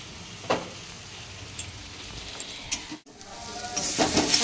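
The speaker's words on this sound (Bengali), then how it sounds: "একটুখানি এসে একটুখানি ডিম কষাটা নেড়ে দিলাম" Egg curry (dim kosha) being stirred in a pan, a soft sizzle with a few scraping strokes of the spoon, close and moderately quiet, the sizzle swelling louder toward the end.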